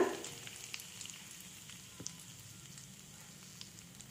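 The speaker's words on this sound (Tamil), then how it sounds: "ஆயிலில் இருந்த ஹீட்டுக்கே பாருங்கள் கருவேப்பிலை நல்லா பொறிஞ்சு வந்திருக்கு" Curry leaves frying in hot oil for a raw mango pickle, giving a quiet, steady sizzle with faint crackles and pops throughout, no voices.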